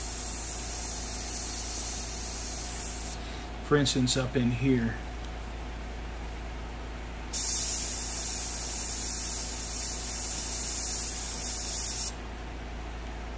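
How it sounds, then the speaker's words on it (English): An airbrush sprays paint onto a Dragon Elefant tank model with Zimmerit, giving two long, steady bursts of close hiss, separated by a short stretch where a person speaks. "it's too difficult to spray around those things"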